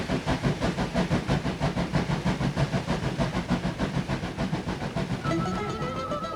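A coal-burning steam locomotive chugs along with a steady, fast rhythmic chuff and hiss, loud and close, with a thin whistle-like tone rising near the end.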